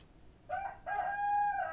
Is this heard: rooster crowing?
yes